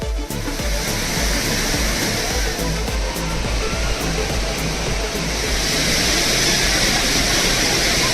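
Hogenakkal waterfall on the Kaveri river gives a steady, dense roar of falling water that holds at an even loudness throughout, with no voices over it.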